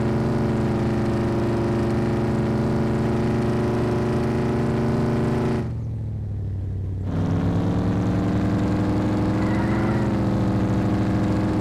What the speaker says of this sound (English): Does love doing one wheel peels.